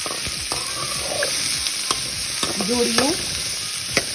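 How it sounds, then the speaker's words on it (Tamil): Onion, coconut and spices being sautéed in a pan for white kurma, a steady sizzle with repeated scraping stir strokes, close and clear, with a brief spoken word. "இது எல்லாமே பேனில் போட்டு நான் வதக்குறேன்."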